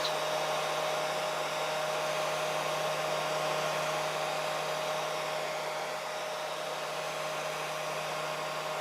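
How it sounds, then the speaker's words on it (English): A Harbor Freight heat gun runs steadily while heating a rubber bumper, giving a constant close blower whine and rushing airflow with no pauses, alone without talk. "Now I'm going to use my trusty heat gun that I got from a Harbor Freight tool company"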